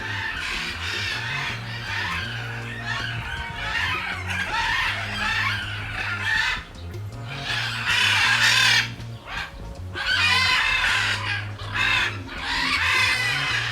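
Curassows at a zoo in Brownsville, Texas, give loud, raucous calls that overlap continuously, a chorus of harsh crowing and clucking cries rising and falling with short dips between bursts.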